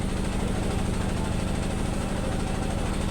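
A picnic trawler boat's engine chugs steadily on a river, a loud, continuous low throbbing drone with an even mechanical pulse throughout.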